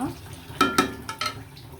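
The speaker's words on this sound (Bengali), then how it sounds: "কাঁচা বেগুন দিয়ে দিলাম দিয়ে ভালো করে নাড়াচাড়া দিয়ে দেবো মশলার সাথে মশলাগুলো মিশিয়ে" A frying pan of raw eggplant and spices being stirred, giving a few quick clattering scrapes of a spoon against the pan, close and brief over faint cooking noise.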